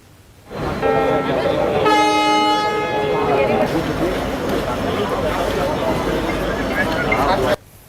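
A Lokmanya Tilak train at Katihar Junction sounds a long, steady horn over a constant rumble of station and rail noise, with voices murmuring in the background.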